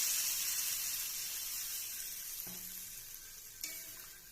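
Water poured into a pan of frying egg curry with soybean and potato sets off a steady, close broadband sizzle that hisses on without pause, softening slightly toward the end, with a brief clatter of stirring partway through.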